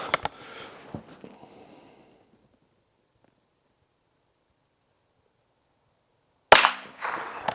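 A Bergara BMR X Carbon rimfire rifle fires at 50 yards during a rabbit hunt, giving one sharp supersonic crack at the start. After a short, quiet tail, a second loud report follows near the end.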